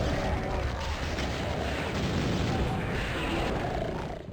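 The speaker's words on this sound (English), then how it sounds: "Okay, BFG, push the button," A BFG weapon blast in the Doom video game map Eviternity II, a sustained roaring explosive rumble that fills the whole moment loudly, with no talk over it.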